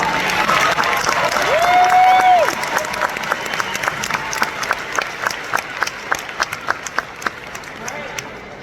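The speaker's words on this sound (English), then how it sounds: "Let's give them another round of applause." A graduation ceremony audience applauds after student speeches, a dense wash of clapping that thins into scattered individual claps, with a sustained tone and a voice speaking over the start.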